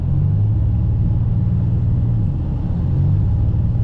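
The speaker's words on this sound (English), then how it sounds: "I'm putting my foot on the gas and it's just sputtering out." Car engine sputtering as the gas pedal is pressed, a low uneven rumble holding steady with faint wavering pitch, close and continuous with no talk.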